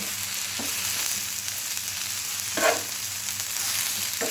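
Onions and eggplant sizzle steadily in hot oil in a pan as a curry is cooked, with a few soft scrapes and stirs as the pieces are turned over; no talking.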